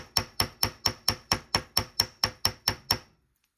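Thirteen evenly spaced, ringing metal strikes of a hammer shaping a wire eighth-note music charm on a steel bench block, close and crisp, each tapping quickly away before the last one stops and silence follows.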